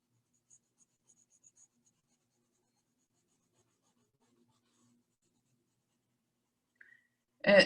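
A colored pencil makes faint, sparse scratches across paper, with a brief louder noise at the very end of an otherwise quiet stretch.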